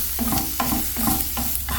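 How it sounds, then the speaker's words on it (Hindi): Vegetables including capsicum, seasoned with a little black pepper powder, sauté in a pan over a medium flame, giving a steady sizzle broken by repeated stirring scrapes roughly every half second, close and fairly loud with no talking. "2 से 3 मिनट तक के लिए मीडियम फ्लेम पे इसको सौते कर लेंगे।"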